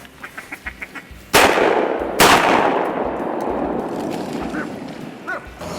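Two loud, close shotgun blasts, a second or so apart, boom out of a quiet marsh while duck hunting; the gun is loaded with heavy metal shells. Each report leaves a long rumbling tail, and faint duck quacks come before the shots.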